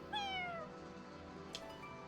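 Cat in the Fire Emblem Engage video game giving a single clear meow that slides downward, fairly quiet, followed by a faint short click.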